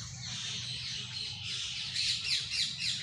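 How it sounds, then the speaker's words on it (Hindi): Dense, busy bird chirps and squawks fill the air continuously, several birds calling at once in a lively outdoor chorus with no talking. "आप सुन रहे होगे कि चिड़ियों की आवाज़ बहुत ज़्यादा आ रही है"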